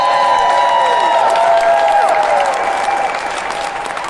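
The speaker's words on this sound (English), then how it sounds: "just one last round of applause for all of our speakers today" Audience at a recovery rally applauding, steady dense clapping from a crowd that carries on for several seconds, loud and close, then slowly tapers off.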